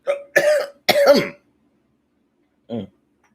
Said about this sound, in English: trying to cough it off